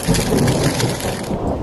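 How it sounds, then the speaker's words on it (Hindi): Rain and thunder: a dense, loud, steady downpour hiss with a low rolling rumble underneath, fading slightly at the end. "अरे बाहर तो बारिश भी हो रही है"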